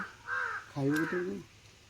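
A crow caws outdoors in rural Odisha, three drawn-out nasal calls fairly close by against soft background hiss, with nothing else standing out.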